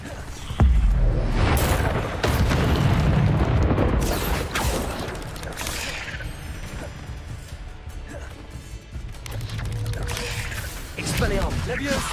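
An Incendio spell bursts in the Hogwarts Legacy video game, a loud fiery crash and whoosh early on, followed by further smashing impacts and spell effects while someone talks over them.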